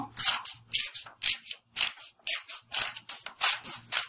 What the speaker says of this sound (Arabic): بيقص الورق بكل بساطه